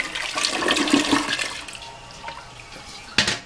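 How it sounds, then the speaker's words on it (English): A Sterling toilet flushes in a hotel bathroom, starting with a loud rushing swirl of water that tapers into gurgling refill. It is close and alone, with a brief clunk near the end. "for all you toilet fans, we're gonna flush the commode"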